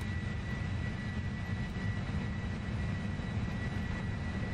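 Jet engines of a PMDG 747-400ER roar at takeoff in the P3D flight simulator, a steady, even rumble with a high whine on top, sustained and unbroken, no voices.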